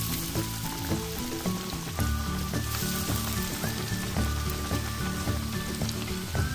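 Pitha dough frying in hot oil in a wok, a dense, loud, steady sizzle and crackle of bubbling oil throughout, with faint clinks in the background.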